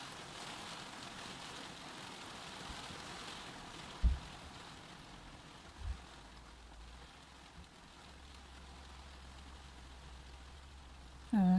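Steady rain falls outside as a soft, even hiss, with a few low thumps and a gust of wind near the end; no one speaks.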